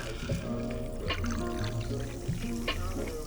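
Soda poured into a highball glass of ice for a grapefruit Paloma cocktail, a continuous close fizzing pour with someone talking over it throughout.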